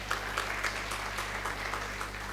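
An audience at a literary circle event claps to welcome an author to the stage, a brief burst of moderate applause with distinct individual claps, heard over a low steady hum.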